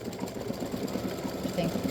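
An embroidery sewing machine stitches freestanding lace bat earrings with a rapid, steady mechanical whirr and repetitive needle clatter, while a person talks over it.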